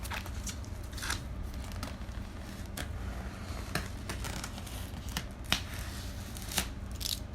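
Close, steady cutting and crunching through a block of packaging styrofoam, scratchy bursts and squeaks repeating for several seconds with a few sharper snaps, no talking.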